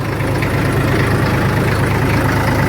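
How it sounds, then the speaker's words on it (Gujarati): A tractor engine idling out at a farm, a steady low chugging drone with a regular knocking pulse, loud and close, running alone without talk. "લઈ લીધું ટ્રેક્ટર હાથમાં"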